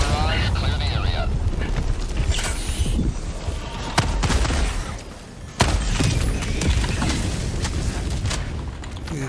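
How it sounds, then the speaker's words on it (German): Orbital barrage strikes land in a video game shooter, a series of heavy booms and rumbling blasts with two sharp cracks, mixed under ongoing game noise and voices. "Firing orbital barrage."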